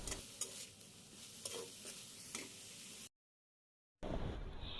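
Momo stuffing with soy sauce and tomato sauce stirred in a pan, giving soft sizzling with scraping strokes, then a short gap of silence before frying resumes.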